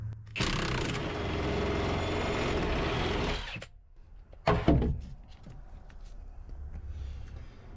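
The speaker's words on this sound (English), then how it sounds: "we're going to use the impact, so there's gonna be some loud noises." A loud impact wrench buzzes and whirrs for several seconds loosening a bolt on a rusted Ford F350 cab mount, stops, then a brief sharp burst and clatter follow over low background noise.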